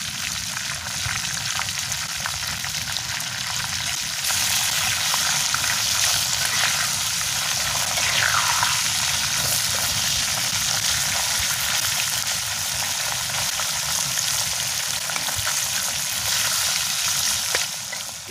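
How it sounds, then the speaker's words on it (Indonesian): Papaya leaves frying in hot oil in a home kitchen, a steady dense sizzle that runs throughout with occasional stirring, close and fairly loud, with no talking. "Daun paya kita goreng juga."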